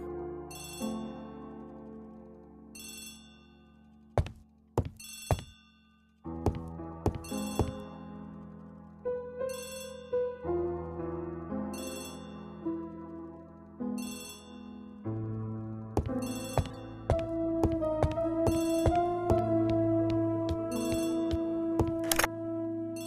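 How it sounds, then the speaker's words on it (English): An old-style telephone rings repeatedly in Agatha Christie: The ABC Murders, bright bell trills in a steady pattern over layered music with sharp accents, the ringing carrying clearly through the whole stretch. "Poirot, the telephone."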